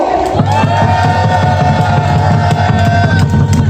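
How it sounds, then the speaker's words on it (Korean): Rally crowd at a candlelight protest against THAAD deployment in Gimcheon, cheering loudly with whoops and steady clapping throughout, close and sustained. "오늘도 전국에서 고생하고 계신 사드 배치 처리를 위해서 고생하신 여러분들을 위해서 뜨거운 함성과 박수 한번 부탁드리겠습니다"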